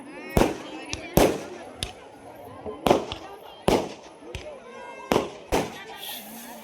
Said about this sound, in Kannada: ನನ್ನ ಮಗ ಪಟಾಕಿ ಹೊಡಕ್ಕೆ ಅನ್ಸ್ತಾವ ನೋಡಿ